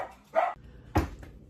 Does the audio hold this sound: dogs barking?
yes